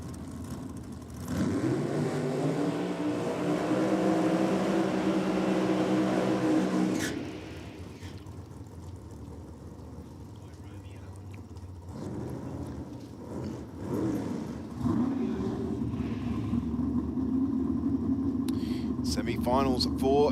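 A Super Gas drag racing car at a NSW championship meeting roars loudly with a rising engine note for several seconds, then drops away to a lower background rumble and crowd-like noise.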